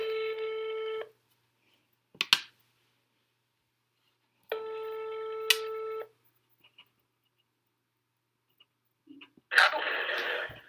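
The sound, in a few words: telephone call being redialed, ringing tones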